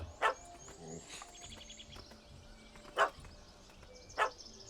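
Dog barking in The Witcher 3: Hearts of Stone video game, three sharp, loud barks spaced out over a quiet ambient background.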